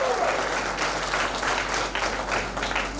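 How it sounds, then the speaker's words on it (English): Audience applause at a CBSE 2022 valedictory ceremony, a steady dense wash of clapping from a crowd that carries evenly throughout without a break. "It's a curtain call and loudest applause for you"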